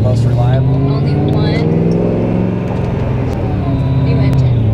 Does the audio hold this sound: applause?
no